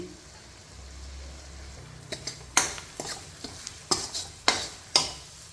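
Spices with red chili, salt, turmeric and green chilies roasting in a pan for pakoras: a low, steady sizzle broken by about seven sharp spoon scrapes and clinks in an uneven rhythm, close by, with no talking.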